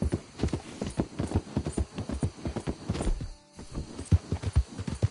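Horse hooves in Red Dead Redemption 2 clip-clop at a steady walking rhythm, close and distinct, with a brief pause midway before the steps resume.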